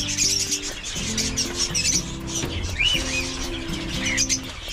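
Kept birds chirp and tweet near the listener, with busy high calls over a lower, tonal hum of cooing or humming notes, continuous throughout.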